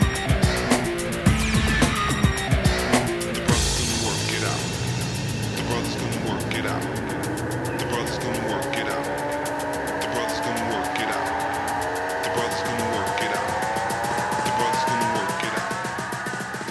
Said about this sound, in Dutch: Het is echt gewoon een lekkere motor.